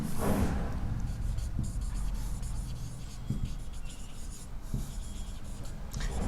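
Steady pen-on-paper scratching while math equation steps are written out, continuous close strokes with occasional taps, no talking.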